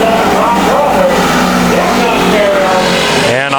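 Race cars roar around the oval at Bakersfield Speedway, a loud continuous engine din with shifting pitch as cars pass, while an announcer talks over the racing throughout.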